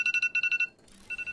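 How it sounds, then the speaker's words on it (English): An electronic alarm goes off during a live game session: rapid repeating beeps in quick pulsed groups, a short pause with a faint click, then the beeping resumes, alone without talk. "that was my alarm to wrap up"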